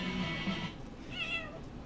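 A pet cat meows nearby in a room where a video game is being played. A drawn-out, wavering meow rises above a steady background of game sound.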